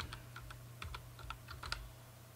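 Quiet, quick keystrokes on a computer keyboard type a password while an admin account is being set up for a Nortel digital phone system, tapping in an uneven burst over a low hum.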